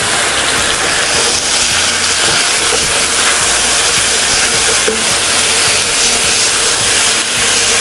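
Prawns sizzle hard in a hot pan with ginger garlic paste, a loud, steady, dense hiss that fills the whole stretch without a break, close to the mic and with no talking over it.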